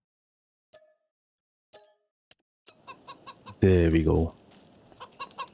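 Chickens and a rooster at a small chicken farm in a farming video game give scattered clucks and one loud, close squawk, with a brief spoken remark heard alongside.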